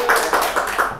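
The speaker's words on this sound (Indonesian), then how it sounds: "boleh tepuk tangan" Rhythmic claps ring out in a TV studio, five distinct bursts spaced evenly and close by, sounding like a small audience clapping in unison.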